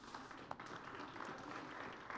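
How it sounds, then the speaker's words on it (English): Delegates at a national forestry workshop give a steady round of applause that stays even and fairly soft throughout, with no voices on top. "I think we need to applaud that"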